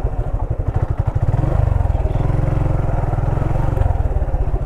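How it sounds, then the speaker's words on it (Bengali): A motorcycle engine braking on a road gives a loud, close, steady engine throb that holds its rapid firing pulses and shifts pitch slightly as the bike slows. "this is engine brake"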